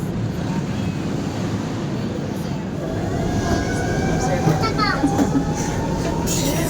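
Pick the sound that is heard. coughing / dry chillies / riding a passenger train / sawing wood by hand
riding a passenger train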